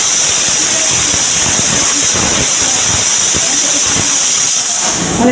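Steady loud hiss of steam venting from a pressure cooker on a gas stove while pulao cooks, continuous broadband rush with faint thumps underneath, no talk.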